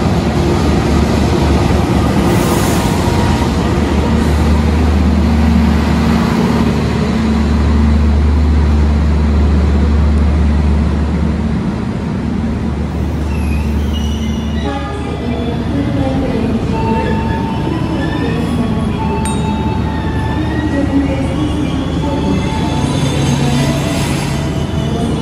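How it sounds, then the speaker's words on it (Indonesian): Gaya Baru Malam passenger train rolling into Kroya station, a loud, close, continuous rumble of wheels and carriages with low engine drone and occasional metallic squeals as it slows along the platform. "Kereta api Gaya Baru Malamnya barusan datang tuh teman-teman"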